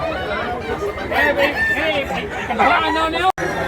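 A white chicken clucks and crows close by, its calls mixed with people chatting nearby at a market in Mantalungon, Cebu.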